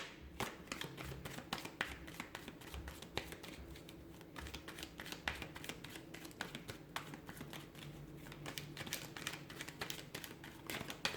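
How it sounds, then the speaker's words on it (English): Cards being shuffled, a rapid run of crisp flutters and riffles repeating in bursts, close and fairly quiet with no talk. "give the cards a shuffle"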